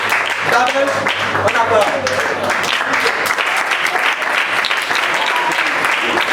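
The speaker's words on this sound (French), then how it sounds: "Acclamez pour les deux." Audience applause at a live event, loud, dense and sustained for the full stretch, with a voice briefly speaking over the clapping near the start.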